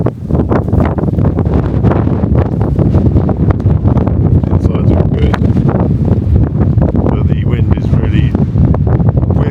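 Strong wind buffeting a Terra Nova Vault Duo tent at a wild camp in the UK, a loud, gusty roar with rustling pulses that continues throughout.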